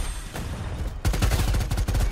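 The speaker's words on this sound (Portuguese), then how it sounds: "Aí, acertei muito tiro." Rapid bursts of gunfire crackle loudly in the video game Predator: Hunting Grounds, a dense run of close shots that grows heavier after the first second.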